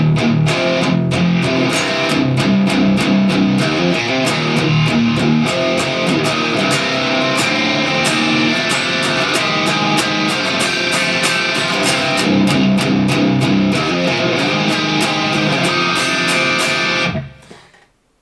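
A distorted electric guitar plays a long, busy rock riff with rapid chugging strokes and ringing chords. It is loud and close throughout, with no one talking, and stops abruptly near the end.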